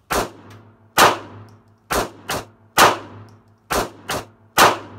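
Glock 26 compact pistol fired in a quick string of seven sharp, loud shots in uneven pairs and singles, each with a short decaying tail, over a steady low hum and with no talk.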